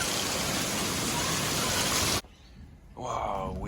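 Massive hail from an overhead summer thunderstorm pelting the roof and sides of an RV, a loud dense roar of countless impacts that cuts off abruptly, followed by a quieter patter as a person starts talking.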